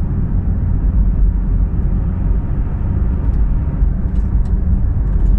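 A 2016 Porsche 911 GT3 RS on normal roads, its engine and high-performance exhaust giving a steady, loud low drone while driving, with no voices over it.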